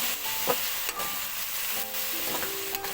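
Boneless chicken pieces fry in a pan with a continuous sizzle, broken by a few sharp scraping stirs.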